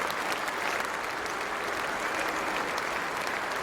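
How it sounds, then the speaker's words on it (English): A cricket crowd at Lord's applauding a batsman off the ground after a double hundred of 215 in an Ashes Test, dense sustained clapping from a large stadium audience, steady and even throughout. "Everyone at this famous ground standing to applaud Stephen Smith off the ground for 215."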